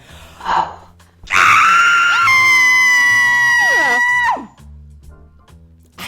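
A person screams into a screaming pillow in one long, loud, sustained, slightly muffled cry lasting several seconds, ending in a falling wail, with brief sounds before and after.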